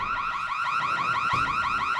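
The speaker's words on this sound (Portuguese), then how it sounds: "Cadê o alarme?" A car alarm wails in the zombie game Dying Light, a loud, close electronic siren with rapidly repeating rising sweeps that continues without a break and carries no voices.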